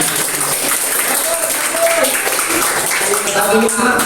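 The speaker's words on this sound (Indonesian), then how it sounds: "Beri tepuk tangan." Classroom applause during a teaching practice session, a short burst of students clapping together, fairly loud and dense, with voices mixed in throughout.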